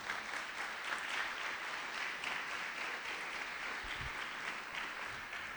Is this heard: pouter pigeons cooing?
no